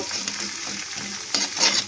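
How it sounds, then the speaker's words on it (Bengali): An egg frying in hot oil in a pan, a close, loud continuous sizzle with brief bursts of crackle and spatter near the end. "এবার আমি এই তেলের মধ্যে ডিমটাকে ভেজে নেব।"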